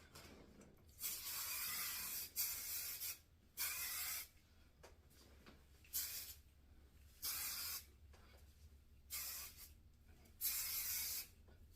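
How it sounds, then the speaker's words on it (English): Chi Helmet Head extra firm hairspray is sprayed through hair in a series of about eight close, loud aerosol hisses, each lasting about a second, with short quiet pauses between bursts. "This Chi Helmet Head Extra Firm Hairspray. And I'm just going to spray that all through"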